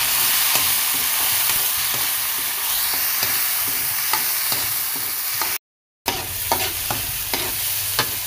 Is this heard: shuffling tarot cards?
no